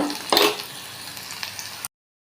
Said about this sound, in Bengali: এই যে আমি এখানে পেঁয়াজ রসুনটা ভেজে নিতেছি